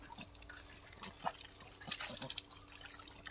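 Ducks bathe in a tub of water in a garden, making soft irregular splashes, drips and sloshes that come close and stay fairly quiet throughout.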